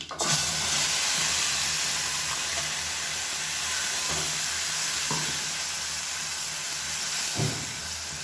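A loud, continuous sizzle of onion-tomato paste frying in a hot pan, with a few soft stirring scrapes breaking through the hiss.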